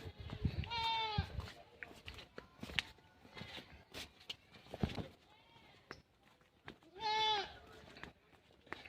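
A goat bleats twice, once near the start and again a few seconds later, clear and fairly close, with rustling, footsteps and outdoor activity filling the gaps between calls.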